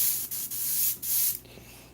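An airbrush sprays acrylic paint in short hissing bursts, broken by brief pauses. It is close and fairly loud, with no voices.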